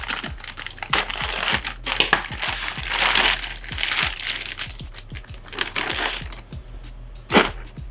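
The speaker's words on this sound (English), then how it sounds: "open up this poly mailer, and let you know what's exactly inside" A slice safety cutter with a ceramic blade slits open a plastic poly mailer, producing a steady run of crinkling, crackling plastic rustles and small snaps, close and fairly quiet.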